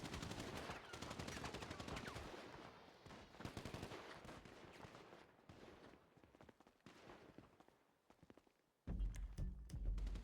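Video-game gunfire from a gun store scenario, with dense, rapid bursts of shots running almost continuously and a heavier volley near the end, mixed with game clutter and faint background voices.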